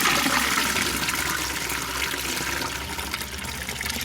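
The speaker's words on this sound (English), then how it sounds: "That is a toilet flushing." A toilet flushes with a steady rush of water that runs through the whole stretch, close and moderately loud, with a faint trickling edge and no voices.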